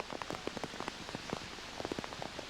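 Rain falling on an outdoor show-jumping course, with irregular close drops tapping and pattering in quick uneven bursts over a soft, steady wash.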